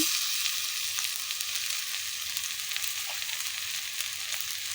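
Fish curry sautéing in a pan with salt just added, a steady close hiss of frying oil with faint stirring scrapes throughout, no voices.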